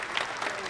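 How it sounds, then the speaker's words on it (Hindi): An audience at a government event in Gyan Bhawan, Bihar, breaks into a brief burst of clapping, a dense patter of many hands lasting under a second. "इसके लिए एक बार जोरदार तालियां समर्पित कीजिए।"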